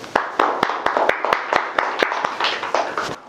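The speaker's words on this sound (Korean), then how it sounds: "박수 한번 줄까요?" A small audience in a comedy lecture claps by hand, with sharp, distinct claps that come in an uneven, fairly quick series of about a dozen. The claps sound close and moderately loud, with a faint murmur under them.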